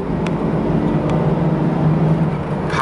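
A Chevy Astro van drives along at steady speed, about 30, its engine humming low and constant with road noise filling the cabin, heard from inside.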